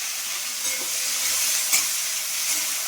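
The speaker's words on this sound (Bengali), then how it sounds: "পেঁয়াজটা ভালো করে ভেজে নেব।" Onion fries in a pan over a green chilli tempering, giving a continuous close sizzle with soft stirring scrapes and one brief sharper crackle, and no one speaks.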